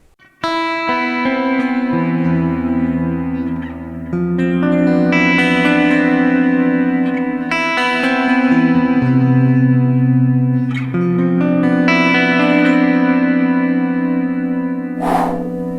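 Clean electric guitar plays sustained chords and melodic lines, washed in echoing delay and lush reverb, ringing out alone.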